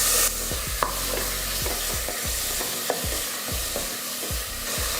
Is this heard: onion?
yes